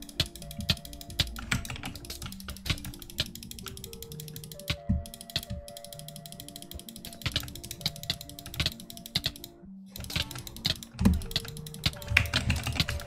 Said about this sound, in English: Come on, I'm clicking 6 CPS.